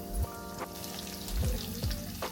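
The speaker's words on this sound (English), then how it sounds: "you're really just cooking these for 3 to 4 minutes on each side until the panko is golden brown and crispy" Panko-crusted tofu cutlets fry in a pan with a steady soft sizzle and light crackle, punctuated by a few brief pops, close and moderately quiet with no voices.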